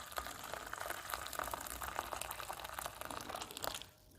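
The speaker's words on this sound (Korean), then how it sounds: "사용했던 믹싱볼에 자, 끓인 물, 뜨거운 물 넣어줍니다" Boiling hot water pours steadily into a used mixing bowl, a continuous close splashing rush with faint crinkling that tapers off near the end.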